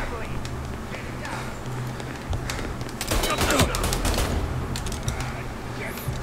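Gunfire in the PC game Mafia Definitive Edition, bursts of shots crackling through a busy, noisy action mix over steady game sounds, with someone talking throughout.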